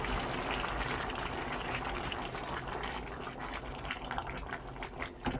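Boiled water pours steadily into a pot of vegetables for pumpkin soup with a continuous splashing rush, close by and fairly quiet, with no talking.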